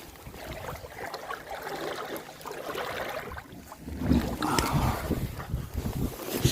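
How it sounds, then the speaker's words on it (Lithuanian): Wind rushes steadily across a sailboat under sail, a broad, roaring hiss with buffeting gusts against the microphone, growing rougher and louder in the second half. "Užburianti vėjo jėga."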